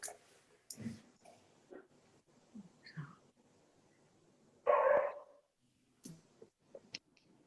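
A dog barks faintly a few times at a distance, short scattered yips separated by quiet gaps, with soft breathing and whispering close by.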